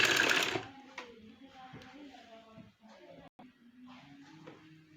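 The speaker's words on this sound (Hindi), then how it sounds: "जो इलास्टिक जहाँ पे लगता है वो स्टिचिंग कर रही हूँ।" A sewing machine runs in bursts, stitching the elastic casing of a trouser waistband, loud at first and then steadier under a voice speaking throughout.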